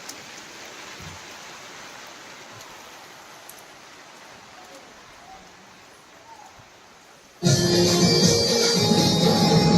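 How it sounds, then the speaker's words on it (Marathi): Steady soft hiss of falling rain that suddenly swells into a much louder, close downpour near the end. "सगळ्या गोष्टी लावलेल्या आहेत आणि पाऊस पडतोय"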